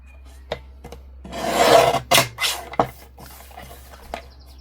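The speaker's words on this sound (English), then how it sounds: "So I'm going to cut this matte layer at 5 1/4." Card stock matte layer for a stamp collage card is trimmed close up: a few light taps, then a rasping slide of a cutter, followed by short scraping strokes and quiet clicks.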